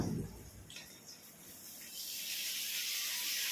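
Tomatoes and mint go into a hot pan for prawn biryani, and a sizzling, steamy hiss swells up and then holds steady and fairly loud, with no talking.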